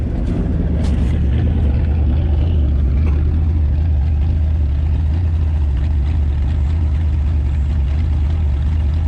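The V8 of a long-neglected 1958 Chevy Biscayne idles rough and loud up close, running rich with a steady deep rumble and uneven low pulsing throughout, no voices over it.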